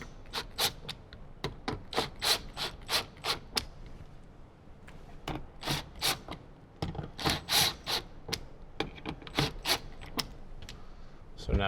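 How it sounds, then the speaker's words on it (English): A ratchet tightens speaker bolts inside a 2025 Toyota 4Runner during an Alpine speaker install, giving repeated sharp clicking bursts in quick rhythmic runs, close and loud, with short pauses between strokes. "Now let's tighten those bolts down."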